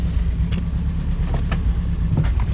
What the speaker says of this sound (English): I want to adjust the carburetor idle a little bit